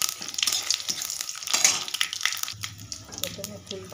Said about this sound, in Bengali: ফোড়নে গোটা জিরে দিয়ে দেবো।